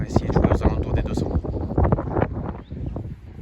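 Wind gusts across a golf course at Golf de Mionnay, roaring and buffeting the microphone in uneven bursts while someone talks over it.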